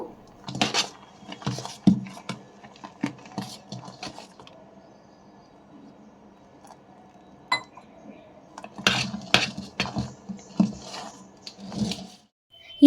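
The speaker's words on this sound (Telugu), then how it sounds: "ఒక గిన్నె బయట పెట్టాను దానికి ఇప్పుడు ఉప్పు అయితే కలిపి ఇడ్లీకి అయితే రెడీ చేసుకుంటున్నాను" A spoon clinks and scrapes against a bowl while salt is mixed into idli batter, in short close bursts with a quiet pause midway.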